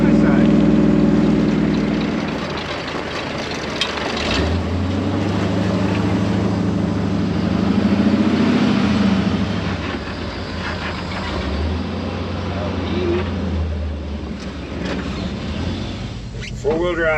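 Vehicle engine drone while driving to tow a side-by-side, a steady low rumble that rises and falls from inside the cab, with a voice talking over it.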